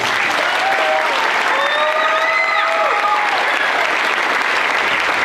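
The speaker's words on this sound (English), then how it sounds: "If you could give her a round of applause, please." A school Christmas concert audience claps in a dense, steady round of applause that stays loud from start to finish, with a few faint whistle-like tones above it.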